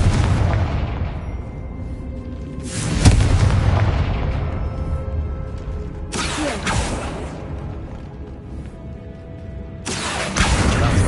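Confringo spell blasts in the Hogwarts Legacy game: three loud booming explosions with sharp onsets, each followed by a long rumbling decay, spaced a few seconds apart with no talk.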